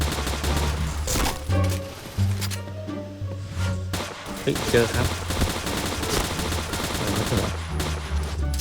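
Gunfire in the first-person shooter Point Blank during a free-for-all match, rapid bursts of automatic weapon shots and loud impacts filling the clip, with a player's excited voice talking over the shooting.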